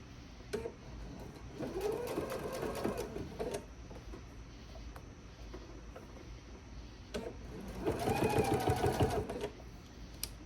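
A sewing machine stitches slowly around the curve of a fabric bag, running in two separate bursts of rapid rhythmic whirring with a quiet pause between them.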